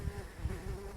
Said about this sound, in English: There's a little bee on my phone.